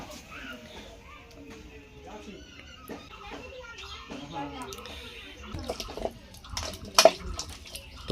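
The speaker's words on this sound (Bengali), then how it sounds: "এরপর মাছ ধোয়া চলছে" Water splashes and trickles as cut fish is rinsed again and again in clean water at home, in uneven bursts that get louder near the end, with people talking throughout.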